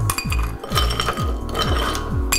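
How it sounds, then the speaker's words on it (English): Ice cubes drop into a glass for a straightedge margarita, making a quick run of clinks and rattles in uneven succession, close and bright, with no talk. "And then ice goes in the glass."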